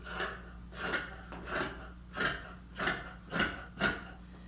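Scissors cut through fabric along a trouser or pajama pattern, heard as seven evenly spaced rasping snips close by, each a short crisp crunch, with a faint steady hum underneath and no talk.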